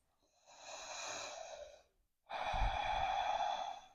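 Two slow, audible breaths taken during a yoga hip and hamstring stretch, each a soft airy inhale or exhale lasting over a second, close and alone with a short pause between.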